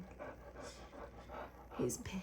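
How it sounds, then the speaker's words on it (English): A dog panting: rapid, regular rhythmic breaths close by, soft and steady, with a voice speaking briefly near the end. "He pants a lot."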